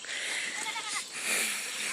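Goats bleating outdoors at dusk in rural Assam, several wavering calls overlapping across the whole stretch, loud and close, with no talk.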